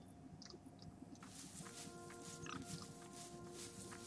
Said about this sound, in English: That's a pig.